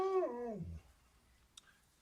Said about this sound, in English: having a good day today, you dogs, and Jar.